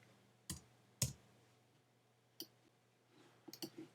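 A computer mouse is right-clicked a few times, sharp quiet clicks heard close and alone over a faint low hum, with a small cluster of lighter clicks near the end.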